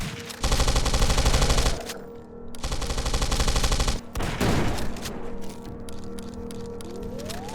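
Rapid automatic gunfire from the video game Zortch in loud sustained bursts, broken by short pauses and a sharp burst near the middle, ending in quieter trailing shots and game effects.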